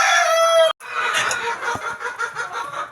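Farmyard chickens cluck busily close by as a rooster crows loudly, the crow breaking off abruptly before a jumble of clucks and cackles continues to the end.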